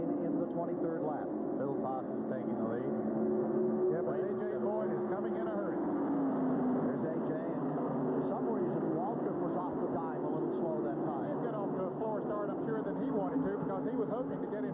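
Stock cars roaring around the track at the 1985 Daytona 500, the field breaking away on the start, a steady dense engine drone under continuous commentary.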